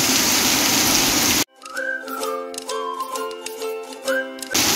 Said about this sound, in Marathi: तुफानी पाऊस मित्रांनो आणि वीज.